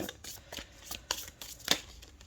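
Oracle cards shuffled by hand in a brief, quiet run of papery riffles and flicks, each stroke soft and close, with no voices.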